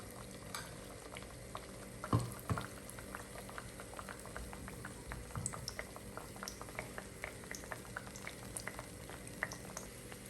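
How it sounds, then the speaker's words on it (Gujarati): Malpua, a soft sweet pancake made from mawa and maida, frying in hot oil, giving a steady bubbling sizzle throughout with scattered light pops and a couple of louder clinks near the start. "હવે આપણે માલપુઆ ફ્રાય કરીએ."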